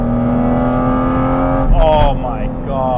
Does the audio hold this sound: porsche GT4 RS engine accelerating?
yes